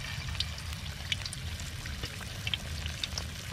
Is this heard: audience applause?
no